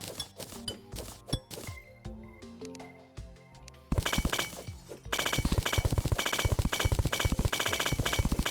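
Glass blocks breaking when hit in the video game Terraria make sharp, clinking shatters, sparse at first, then a fast, loud, regular string of hits that runs to the end.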